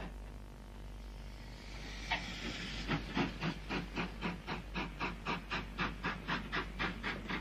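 Ivatt Mogul steam locomotive standing at a station platform, steady hiss of steam giving way to a rhythmic run of sharp chuffs as it works, close and fairly loud.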